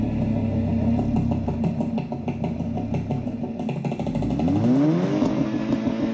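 An Audi S3 with a modified exhaust revs loudly at close range, the engine note climbing sharply in pitch then falling back toward idle, no voices.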